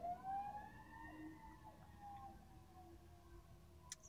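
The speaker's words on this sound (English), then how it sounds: "It's been a lot of sirens." Emergency vehicle sirens wail faintly outside, far off, with their rising and falling tones overlapping under a quiet indoor background. There is no talk.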